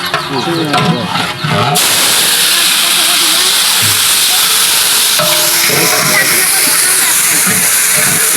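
Mustard seeds sputter and crackle in hot oil in a pan as food cooks, a loud, dense sizzle that starts abruptly and continues throughout, with voices talking near the start and again later.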